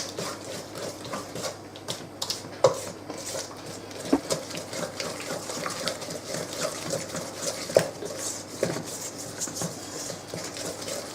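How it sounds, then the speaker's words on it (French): A lemon tart batter with egg being stirred in a bowl: steady, close, rhythmic scraping and swishing with a few sharper clinks of utensil against the bowl, and no talking. "Mélangez bien."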